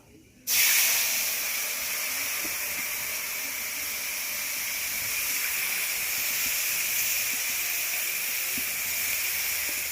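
Mustard paste and amchur drop into hot oil for a fish curry and set off a sudden loud sizzle. The sizzle then holds as a steady, close hiss.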